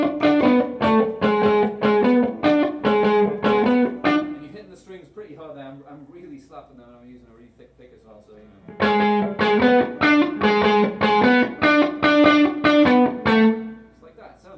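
An electric guitar plays a riff in rapid picked notes with a touch of reverb and slight distortion, in two loud bursts separated by a brief quieter gap where someone speaks.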